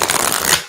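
A deck of tarot cards being shuffled in a brief, close, continuous riffling rush, loud and crisp with no talk.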